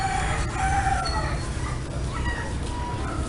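A rooster crows with chickens clucking nearby at a busy Vietnamese street market, the calls fairly close and clear over a steady background of market bustle.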